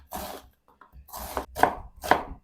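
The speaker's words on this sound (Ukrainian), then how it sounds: "Цибулю наріжу півкільцями." A knife chops an onion into half rings on a board in a few crisp, close cuts with brief pauses between them; no talking.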